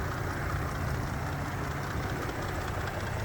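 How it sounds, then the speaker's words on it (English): A 2017 Ford F-150 engine idles in a steady, low, even rumble with a faint broadband hiss and no talk over it. "You can hear it idling happily"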